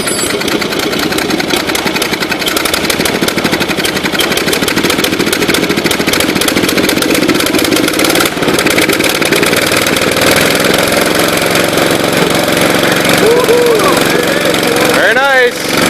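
A Gravely tractor's Onan engine with freshly blown-in ignition runs steadily and loud for the whole stretch, a rough mid-pitched idle with knocking texture, while people talk over it near the end.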